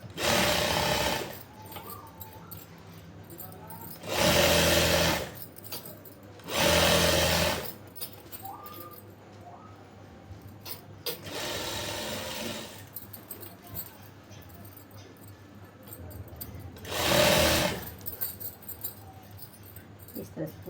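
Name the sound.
sewing machine stitching a palazzo seam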